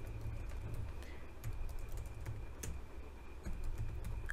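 Typing on a computer keyboard while coding an Angular tutorial, with steady, light key clicks over a constant background hum and no talking.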